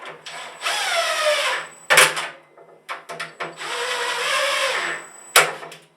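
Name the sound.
impact driver driving bolts into dust collector base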